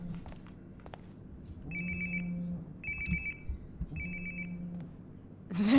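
A phone ringtone in the video game Life Is Strange: Before the Storm sounds in three clear bursts of bright, beeping tones over a low steady background hum, with faint footsteps and a short scrape at the end.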